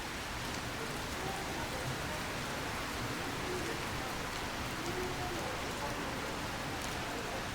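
Typhoon rain during a walk in Saitama-Shintoshin, Japan, a dense, steady hiss of heavy rainfall pouring on surfaces all around, loud and unbroken from start to finish.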